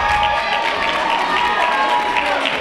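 A wrestling crowd at an EWA event cheers and roars steadily throughout, loud and sustained with no pauses.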